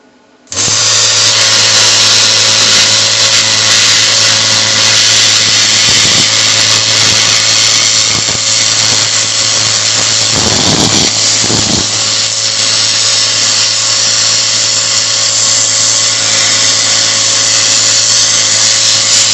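A Lidl Parkside PPSK 40B2 budget plasma cutter cuts metal with a loud, continuous hissing buzz and a steady hum that runs unbroken for the whole stretch, with brief crackling flutters partway through.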